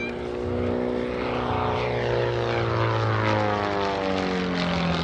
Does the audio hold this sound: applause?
no